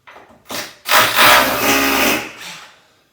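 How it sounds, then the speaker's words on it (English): Core drill boring a centre hole straight through a bathroom wall, giving a loud grinding, rasping burst that builds after a few short starts and runs steadily for over a second before tapering off. "I'm going to get the core drill in now, drill the centre hole, and we're going to go straight through."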